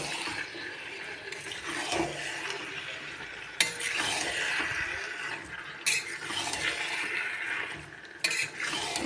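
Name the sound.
marinated chicken added to spiced masala and stirred in pan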